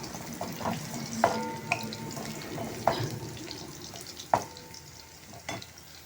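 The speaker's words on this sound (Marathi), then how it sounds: "लसूण हा जास्त फ्राय करायचा नाही, थोडासा कच्चा ठेवायचा" Garlic frying in a pan for a jackfruit garlic vegetable dish, with scattered clinks and scrapes of stirring over a soft, steady sizzle, fairly quiet and with no voices.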